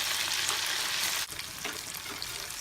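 Mutton pakora pieces frying in hot oil over a high flame, a dense, bright bubbling sizzle that dips briefly midway and then carries on steadily, close and with no speech.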